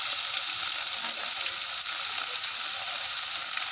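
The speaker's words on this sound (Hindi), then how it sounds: "अब 5 मिनट तक और फ्राई करेंगे बस" Okra (bhindi) sizzles steadily in a hot pan, a dense continuous hiss of frying with faint stirring, close and even throughout with no talk.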